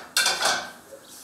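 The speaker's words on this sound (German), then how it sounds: "Janko Tietz' Frau kocht gerade das Mittagessen." Pots and dishes clink and clatter in a home kitchen while lunch is being cooked, a short, fairly close burst of metal and crockery knocks that quickly fades.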